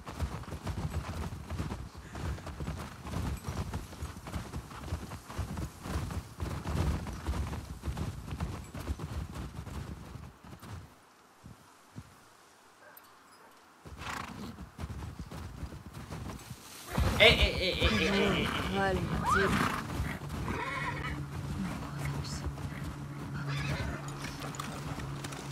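Horses in the video game The Last of Us 2 clop along and let out loud whinnying neighs, hooves and snorts mixed with ambient outdoor game sound and background talk.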